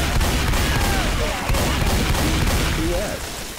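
Dense, continuous gunfire in Left 4 Dead 2 multiplayer while players hold a burning front gate: loud overlapping rapid shots with booming hits, with players' voices over the top.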